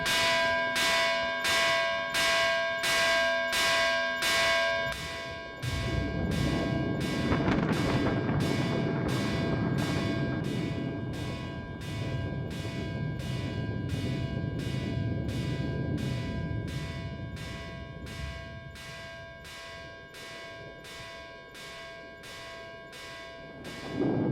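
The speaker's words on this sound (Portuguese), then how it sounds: "Tocaram os sinos, o que não era normal àquelas horas." Church bells ring out in a steady, evenly spaced peal that runs the whole time, loud and close at first, then a dense low rumble swells beneath the strikes midway and gradually fades.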